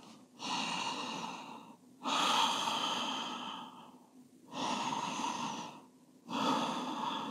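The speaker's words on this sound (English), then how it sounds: "Deep full breath." Slow, deep yoga breathing held in a pose, with four long, close inhales and exhales in a steady rhythm, loud and clear with no talk over them.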